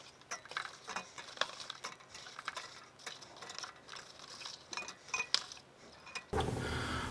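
Eggs set one by one onto a metal rack inside a Ninja Foodi pressure cooker pot, giving scattered light clinks and taps close by, followed by a brief burst of broader rustling noise at the end.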